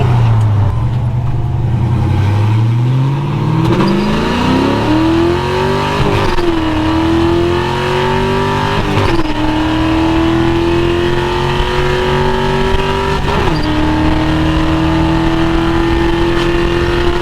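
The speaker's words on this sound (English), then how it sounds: "Oh yeah, the exhaust. I got the exhaust plumbed all the way out the back." A 1955 Chevy engine revs loudly through its exhaust, pitch climbing in long sweeping pulls and holding high, with brief dips between rises, close and continuous.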